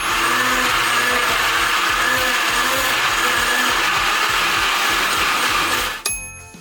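Mixer grinder jars loaded with equal amounts of masala whir at full speed in a grinding test, a loud steady motor drone with rhythmic low churning pulses that cuts off abruptly near the end.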